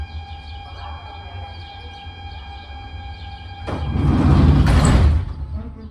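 Doors of a Budapest H7 suburban train, a street-running line, open with a burst of noise and rush over a steady low hum and tones inside the carriage.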